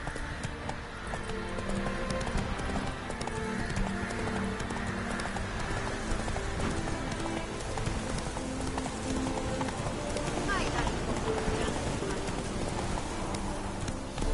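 The horse Roach gallops in The Witcher 3 with a continuous drumming of hooves under a steady game soundscape, loud and close for the whole stretch.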